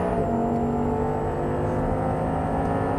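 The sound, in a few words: Audi R8 engine after an upshift on track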